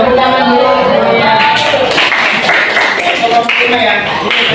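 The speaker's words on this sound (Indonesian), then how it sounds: "Tepuk tangan dulu semuanya." Group clapping in a classroom, a steady burst of applause from students lasting several seconds, fairly loud and close.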